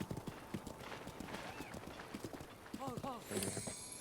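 Horse hooves clip-clopping at a quick gallop in Breath of the Wild, with a whinny partway through, heard under someone talking.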